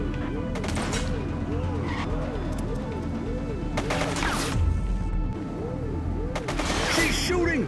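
Bursts of gunfire from a fleeing suspect in the police game The Precinct, loud sharp cracks over a wailing siren and a steady car engine, with a speeding vehicle close throughout.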